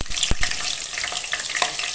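Chicken pakora fries in hot oil over a medium flame, giving a steady close crackling sizzle with a few sharp pops and stirring clicks.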